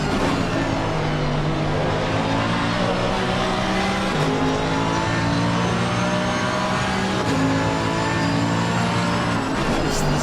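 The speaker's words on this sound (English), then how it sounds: "That engine hum." A race car engine in a PC racing sim at Donington, with a Mercedes and a Porsche battling for position, drones steadily and loudly throughout, its pitch shifting through gear changes around four and seven seconds.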